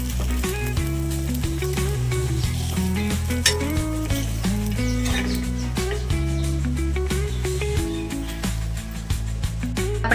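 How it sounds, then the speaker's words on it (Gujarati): Puran poli flatbread roasts in ghee on a pan, a steady close sizzle running throughout, mixed with clinks and scrapes of a utensil against the pan and other tonal kitchen sounds. "તો આપણે એને ઘીમાં શેકી લઈશું।"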